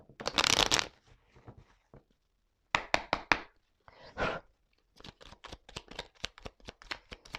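Tarot cards are shuffled by hand in close, crisp bursts: a long riffle, then rapid flicking and snapping of cards in quick sequences separated by brief pauses.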